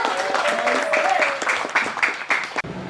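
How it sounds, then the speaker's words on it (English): A round of applause for a costumed historical performer at a walk-through American history event, a steady wash of clapping with some voices and a tonal sound over it, cutting off abruptly near the end. "Great job. Round of applause."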